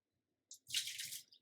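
Meal maker soy chunks drop into cold water for soaking, making a brief close splash and slosh of under a second. The sound is fairly quiet and stands alone.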